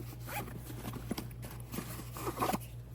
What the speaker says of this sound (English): We do have a leather zipper pull.